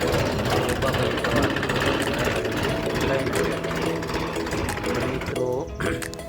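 A tractor engine running in a field under hot sun, giving a loud, steady, close mechanical chugging that continues without a break, with a brief shift in tone near the end.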